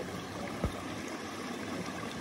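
Water flows steadily through a long tunnel near a river, a constant broadband rush with one brief knock partway through and no talking.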